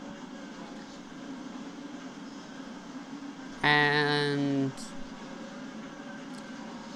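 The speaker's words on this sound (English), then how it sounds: "Squealing of the brakes." A sustained, loud, tonal squeal from train brakes in the Trainz railway game, lasting about a second over a steady rumbling background, with a brief spoken word at the start.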